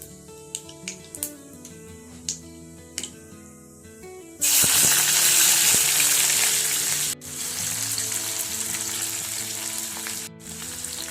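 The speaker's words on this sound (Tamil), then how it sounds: "கடாய் ஹீட் ஆனதும் கடுகு, சீரகம் போட்டு தாளிச்சிக்கலாம்." Mustard and cumin seeds hit hot oil in a kadai and burst into a loud, close sizzle that runs steadily, briefly cuts out and resumes, after a few seconds of light clinks and taps.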